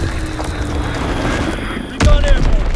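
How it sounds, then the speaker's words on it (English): An Azon bomb explosion in the Call of Duty WWII multiplayer video game, a loud sudden boom that breaks through steady battlefield noise and leaves a heavy rumbling tail. "Dropping Azon bomb."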